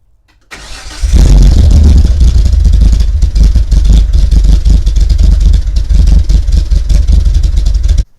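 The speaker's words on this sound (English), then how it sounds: "So what we're going to do is get the engine running." A 1973 Datsun 240Z engine with dual 32/36 DGV Weber carburetors cranks and catches, then runs loud and close with a rough, steady rumble for several seconds before cutting off.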